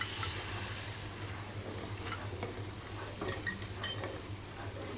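Spoon scraping and clinking in a pan while stirring a buffalo milk mixture for roasted kalakand, soft repeated ticking strokes over a low steady stove hum, with no talking.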